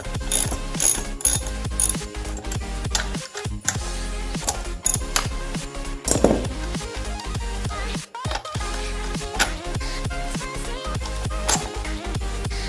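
A flaring tool works a brake line pipe, giving steady rapid ratcheting clicks and mechanical clatter close up, continuous throughout with brief pauses; no voices.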